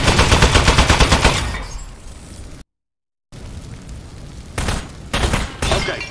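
Loud, dense rapid-fire shooting from a shooting contraption in the video game Aperture Desk Job, fading after a couple of seconds, then a few shorter bursts return after a gap.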